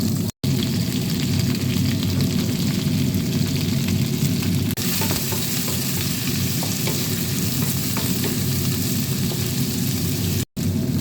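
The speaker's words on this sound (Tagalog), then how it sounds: "Ilalagay ko na yung aking sibuyas." Chopped onions hit browned ginger and garlic in a hot pan for fish sarciado, giving a loud, steady, close sizzle that runs unbroken apart from two brief cuts near the start and end.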